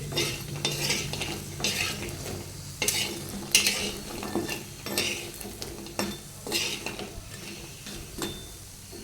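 Oil sizzles steadily in a pan frying lentil dumplings (bori) while a utensil scrapes and stirs in bursts, with occasional clinks of metal against the cookware.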